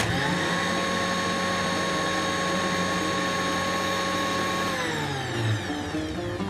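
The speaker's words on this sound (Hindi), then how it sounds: "इस सब को जो है वो हमने कर दिया है ब्लेंड" A countertop blender whirs bananas, cream, milk and honey into a smoothie. Its loud, steady motor whine holds for several seconds, then drops in pitch as it spins down near the end.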